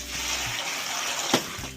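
Water running from a tap to soak alfalfa pellets for horses, a steady broadband rush heard close with a brief louder splash near the end.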